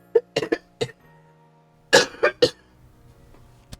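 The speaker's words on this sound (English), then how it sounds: "Oh, I'm still gonna cough." A person coughs in two clusters, three or four quick, sharp coughs, then a pause and three more, close and fairly loud over quiet room noise.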